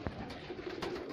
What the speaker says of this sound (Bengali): আর কিছু আছে কালারিং কবুতর